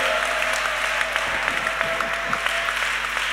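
Church congregation applauding during a sermon, a steady wash of dense clapping that holds evenly throughout, moderately loud with no speech over it.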